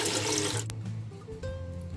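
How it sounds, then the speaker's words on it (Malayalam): Water splashing from a tap into a cooking vessel to begin making pink palada payasam, a loud close rushing pour that cuts off abruptly, followed by quieter dripping and trickling. "ഞാനിത് ഈ ഒരു പാത്രത്തിലോട്ട് കുറച്ച് വെള്ളം ഒഴിച്ചു കൊടുത്തിട്ടുണ്ട് ആദ്യം."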